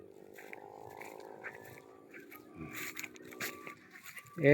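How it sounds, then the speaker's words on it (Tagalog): Several small goats bleat with wavering cries, and people talk quietly in the background. "Mga bagong kambing na maliit."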